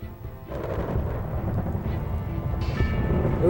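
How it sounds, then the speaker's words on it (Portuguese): Thunder from a nearby lightning strike during an approaching storm rolls as a loud, continuous deep rumble that holds steady for several seconds, with a sharper crackle near the end. "Foi perto, muito perto. Eu gostaria que um raio descesse pelo lado e ele desceu."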